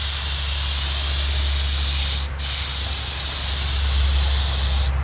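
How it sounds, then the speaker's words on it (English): Loud continuous hiss of a spray gun laying base coat paint onto an old Fox convertible tail light, a steady close spray with a brief break midway and a low compressor hum beneath. "Andrew's out here putting some base coat on this old tail light"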